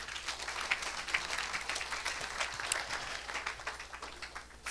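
Applause from a church congregation at a Sunday service, a steady dense patter of many hands clapping throughout, fairly distant and diffuse with a low hum underneath.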